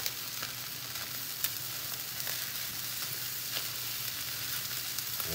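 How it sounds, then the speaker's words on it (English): Chicken cauliflower fried rice sizzling in a pan as green onion is stirred in: steady, faint frying crackle with occasional soft scraping stirs, no voices. "And we're just going to stir this up"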